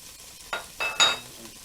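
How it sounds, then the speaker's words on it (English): A whole chopped yellow onion for vegetarian chili is stirred in a hot pan, giving three short bursts of scraping and sizzle over a quiet background, with no voices. "And stir that around a bit."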